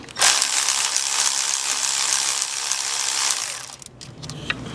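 A wrench cracks loose the valve cover bolts on a 1998 Toyota Corolla, giving a dense, continuous metallic ratcheting rattle close up, then a few lighter clicks and clinks as it stops.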